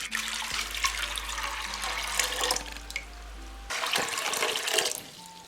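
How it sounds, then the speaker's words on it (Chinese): Water pours into a cooking pot of soaked red beans with white sugar, a close gurgling splash that runs steadily, pauses briefly and then resumes. "加入适量的白砂糖，再加入2碗清水"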